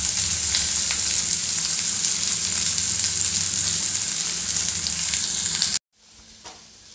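Chopped onion and garlic frying in a pan, a loud continuous sizzle with a low rumble underneath, cutting off abruptly and leaving only faint crackle.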